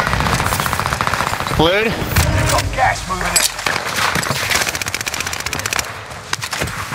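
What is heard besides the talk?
gunfire in the video game Warzone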